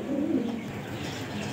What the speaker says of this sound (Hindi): बच्चे उड़ाने वाले बहुत अच्छे लाजवाब कबूतर हैं